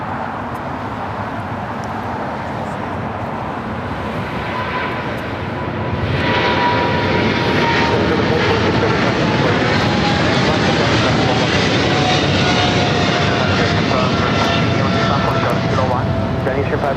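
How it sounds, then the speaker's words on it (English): A China Southern Cargo Boeing 777 freighter roars down the runway at LAX, its jet engines building to a loud, sustained rumble and whine at takeoff power, with voices talking over it. "China Southern Cargo 777 freighter rolling down at 25 left."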